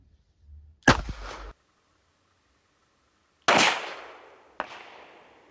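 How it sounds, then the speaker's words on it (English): Three .380 hollow point rounds fired one at a time at close range, each a sharp, loud crack with a ringing tail, the first two close together and the third after a long pause. "we're going to shoot the 380 Creedmoor hollow points"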